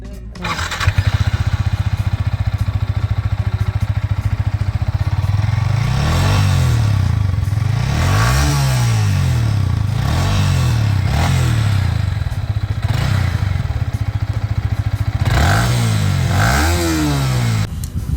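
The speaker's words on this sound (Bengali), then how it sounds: "আপনি ইঞ্জিনের সাউন্ডটা একটু শোনান তো।" A Yamaha R15 v3 motorcycle with about 50,000 km on it idles steadily up close, with several throttle blips rising and falling in pitch and mild valve-tappet clatter.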